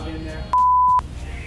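A single loud, sustained electronic beep, about half a second long, sounds over faint background talk.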